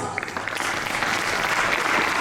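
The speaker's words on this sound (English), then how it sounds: "A big round of applause" A debate audience breaks into steady applause, many hands clapping together in a dense, even wash that holds at a fairly loud level throughout.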